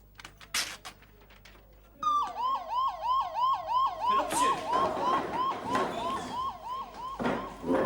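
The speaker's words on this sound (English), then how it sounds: "when the siren goes, no one waits around" A loud wailing fire engine siren in Hartlepool starts after a brief quiet stretch and keeps cycling in rapid, repeated rising sweeps, close by with some background rumble.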